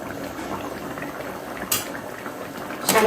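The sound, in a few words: potato and egg curry boiling in pot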